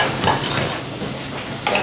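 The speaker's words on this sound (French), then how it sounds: "Fais chauffer les légumes." Vegetables heat in a pan on a busy restaurant kitchen stove, giving a steady close sizzle with faint clinks of utensils and cookware over constant kitchen noise.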